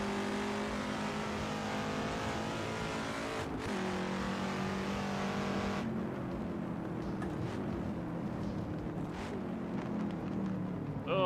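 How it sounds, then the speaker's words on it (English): A race car engine in the Assetto Corsa video game drones under load with shifting pitch, a sharp gear-change break partway through, then lower revving and a brief rising whine at the end, heard alone. "Well, probably mostly engine noise to be fair."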